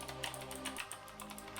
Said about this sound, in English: It's a beautiful keyboard. Oldie but goodie. It clicks fine.